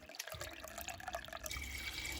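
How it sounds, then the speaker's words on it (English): Water pours and splashes steadily into a pan nearby, a continuous liquid rush with no talking. "you want to put 1 litre of filtered water in there"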